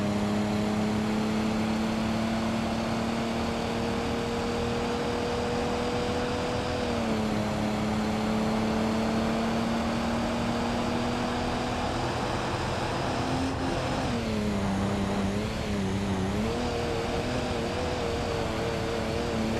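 Car in the driving game BeamNG.drive rolling over a rocky road, a steady loud engine drone throughout with a pitch dip near the end as it lurches over stones, no voices.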